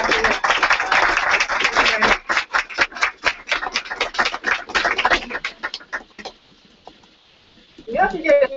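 An audience at a talk on Taiwan's youth movement applauds a speaker: dense clapping that thins into scattered individual claps and fades to quiet, then a voice starts speaking.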